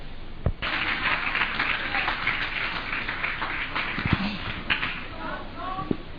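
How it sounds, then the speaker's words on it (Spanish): A church congregation bursts into sustained applause that fills the room, with scattered sharper claps and a voice speaking over it. "Denle un aplauso al Señor."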